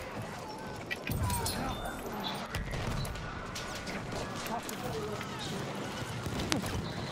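A horse in the Battlefield 1 video game neighs and clops along amid scattered game effects and bursts of noise, with players talking over the action.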